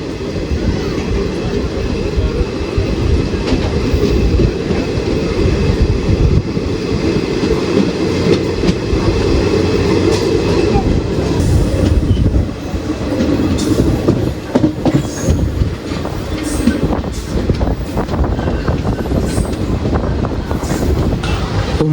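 The Kannur–Trivandrum Kozhikode Jan Shatabdi, an LHB rake hauled by a Vijayawada WAP-7 locomotive, runs along the rails with a loud, continuous rumble and rhythmic clickety-clack throughout, and no voices are heard.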